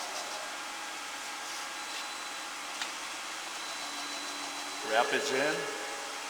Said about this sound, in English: Once the cycle starts, we'll jump out and do one cycle interrupt and maybe a couple of grinds on the wheel here.